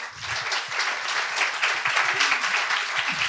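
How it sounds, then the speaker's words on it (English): A gathered audience at a sacred drumming event breaks into warm, continuous applause, a dense wash of clapping at moderate loudness lasting a few seconds with no speech over it. "Please give them an applause just for that."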